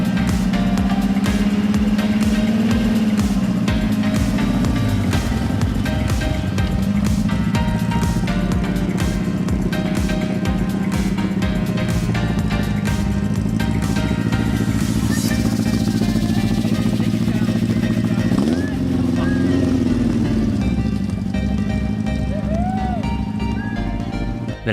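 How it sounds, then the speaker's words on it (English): A homemade DIY car's engine runs rough and unadjusted on a short test drive, a steady loud drone with uneven throbbing and a rising-falling pitch as it accelerates and slows. "the engine ran very rough as it needed to be adjusted, but I didn't care and I took it for a short spin"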